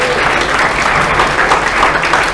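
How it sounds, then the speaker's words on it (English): Loud, sustained applause from the audience at a Model United Nations closing ceremony, a thick, even roar of many hands clapping together without pause. "very big round of applause."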